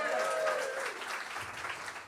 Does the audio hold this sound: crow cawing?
no